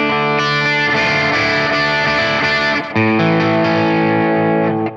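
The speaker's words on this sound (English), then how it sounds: "this kind of D lick that we like to do would sound major in a standard tuning, now it's kind of taken a minor tonality to it" Distorted electric guitar plays a D lick in an alternate tuning, giving it a minor tonality; sustained, dense chords ring loudly and continuously with a brief dip near the three-second mark before ringing on alone.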